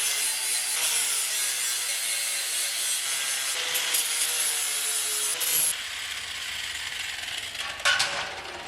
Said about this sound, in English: Flap wheels, gotta love them.